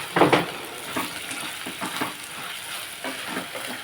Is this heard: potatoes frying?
yes